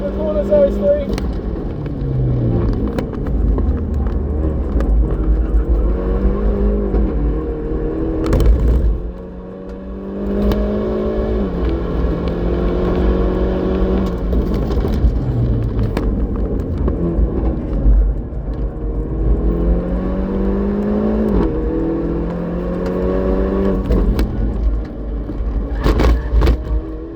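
A Hyundai i30 N with performance filters is driven on the Morgan Park race track, its engine revving up and down through gear changes with repeated rises and dips in pitch, heard loud from inside the car.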